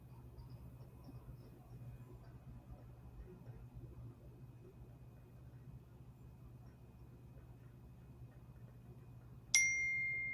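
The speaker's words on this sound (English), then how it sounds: "So I got notifications on my Mac. So whenever I get a text, it just automatically comes through." Mac text message notification, one bright ding near the end that rings out after a long stretch of faint room hum and quiet background.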